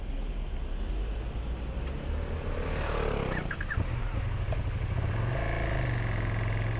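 A learner car pulling away on a driving test route in Maisons-Alfort, a steady engine hum and road rumble that swells as it accelerates, with a short rattle partway through.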